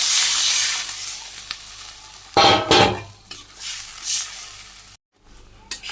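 Water is poured onto taro frying with spices, setting off a sudden loud burst of hissing sizzle amid stirring clatter, followed by softer sizzling and spoon scrapes.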